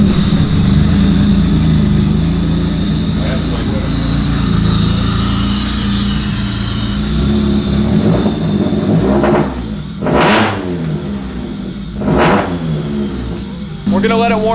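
A Honda Del Sol engine runs and warms up with a steady loud idle, while several sharp whooshing surges come in near the end and people talk nearby.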